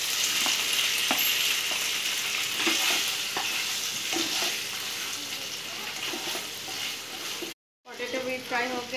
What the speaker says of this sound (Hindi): वही ऑयल में मैं पोटैटो भी फ्राई करके